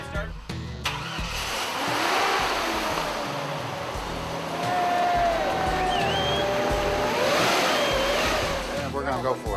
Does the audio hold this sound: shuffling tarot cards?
no